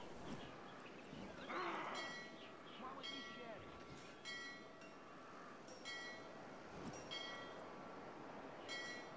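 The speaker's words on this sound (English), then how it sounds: "He's going to go ring a bell." A bell rings repeatedly in a high-seas video game, its faint, ringing strikes coming every second or so over a steady wash of ambient game noise.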